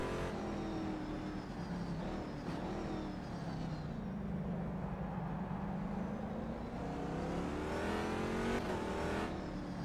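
A Corvette C6.R GT2 race car in rFactor 2 laps the Nürburgring GP circuit, its engine droning and revving up and down through the gears in a continuous, moderately loud stream.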